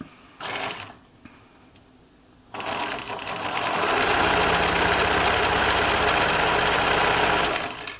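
A Bernina Nova 900 electronic sewing machine stitches test material at a short stitch length, starting with a brief burst, then after a pause settling into a loud, steady, rapid mechanical whir that runs close up until the end.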